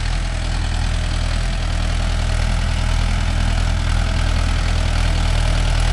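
Mahindra Yuvo Tech Plus 585 4WD shuttle gear tractor engine running at a steady, loud, close idle with a deep rhythmic low thrum and no pauses.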